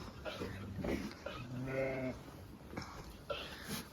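Sheep bleat inside a new tent shelter put up in place of a collapsed barn, among ewes that have not yet lambed; a drawn-out wavering bleat stands out mid-clip over scattered fainter calls and rustling.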